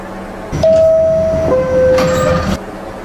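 In the video game Roblox, a subway train sits at the last stop while two descending electronic door-chime tones sound over the hum of the car and the swish of sliding doors.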